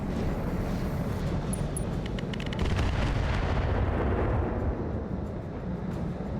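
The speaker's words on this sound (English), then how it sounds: "Finally, those missiles hit something." Missile salvo slamming into a mech in BattleTech RogueTech, a loud continuous rumble of explosions and bursts rolling for several seconds, with crackling impacts early on.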